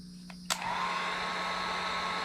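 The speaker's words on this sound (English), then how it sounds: "And you can use a heat gun, you can use a lighter." A heat gun switches on with a click and settles into a steady, fairly quiet blowing whir, heating a solder heat-shrink wire connector.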